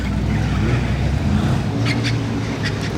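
A car fitted with an Akrapovič exhaust rolls by on a Monaco street, giving a steady, deep exhaust rumble at moderate loudness with faint clicks near the end.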